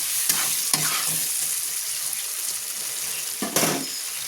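Vegetables with potato and spinach frying in oil with tomato in a pan, a continuous close sizzle broken by several sharp scraping stirs of a spatula.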